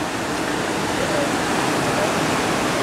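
Ocean waves washing onto a beach in Thailand, a continuous broad rushing roar of surf, close and fairly loud, with no clear breaks between waves.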